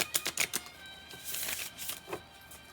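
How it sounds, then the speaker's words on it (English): A deck of cards is shuffled a couple of times: quick flurries of crisp riffling and snapping, close by, separated by short pauses, with no talking. "I'd give the deck a couple shuffles"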